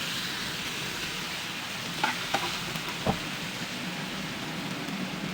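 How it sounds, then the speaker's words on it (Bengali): Ground cumin, onion and mustard paste frying in a pan, a steady low sizzle broken by a few short scraping stirs in the middle. "এই বাটনাটাকে একটু ভালো করে নেড়ে"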